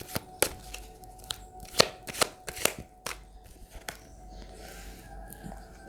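Tarot cards are drawn and laid down from a deck: a series of sharp, separate card snaps and slides, irregular and close, with quiet gaps between them and no speech.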